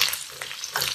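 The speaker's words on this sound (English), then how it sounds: "Keep stir frying for another 2 minutes." Tofu and speck stir-frying in a wok, a loud crackling sizzle with scraping stir sounds over one brief second.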